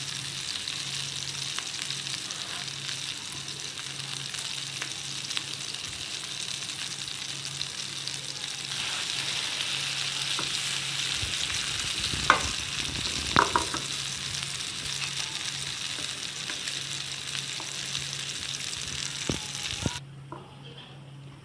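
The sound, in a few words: vegetable kababs frying in a little oil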